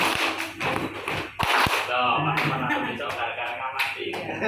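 A group repeats a two-beat clapping rhythm in a classroom activity: a few sharp, close claps and taps come in pairs amid ongoing talk.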